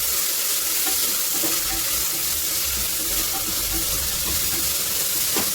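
Masala frying in a pot for mushroom biryani gives a steady, dense sizzle throughout, with faint clinks and stirring scrapes now and then, close and without talk.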